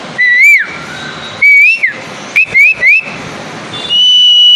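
A person whistles an imitation of a cuckoo's call, a series of short rising-and-falling phrases in bursts separated by brief pauses, clear and close, with no talking.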